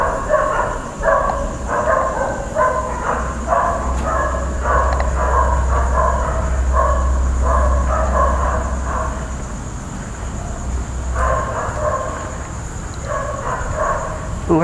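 Dogs barking at a house close by, at night during a walk around the Panequi convention center in Tarlac, repeated bursts of distant barking in uneven clusters, faint under a low rumble and some talk.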